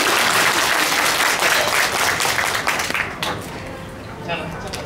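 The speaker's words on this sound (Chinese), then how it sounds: "大家给他掌声鼓励" Hall applause at a crochet workshop gathering starts full and busy, then dies away after about three seconds, leaving a voice speaking.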